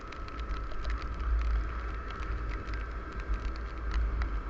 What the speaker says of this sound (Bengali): তো বৃষ্টিটা কমেছে